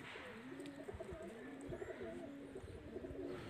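Rampuri pigeons coo continuously in low, rolling murmurs, several birds overlapping at close range with faint chirps above.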